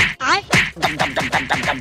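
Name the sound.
duck quacking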